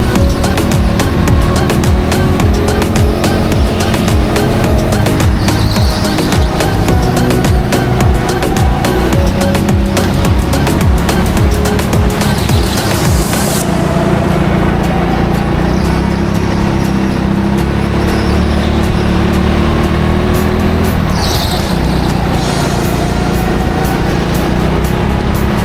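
Go-karts racing around an indoor track at TeamSport Leicester, a steady loud drone of small engines throughout, shifting in pitch as karts pass and brake, with an abrupt thinning of the roar about halfway through.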